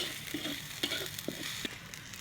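Pork stir-fries with garlic, chili paste and onion, a steady soft sizzle broken by occasional scraping stirs in the pan, heard close and fairly quiet.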